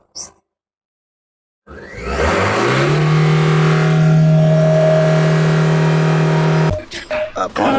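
A load vehicle's engine starts up and revs hard, rising to a loud sustained roar that holds steady, then drops off into uneven bursts near the end.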